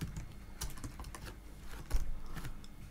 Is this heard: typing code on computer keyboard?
yes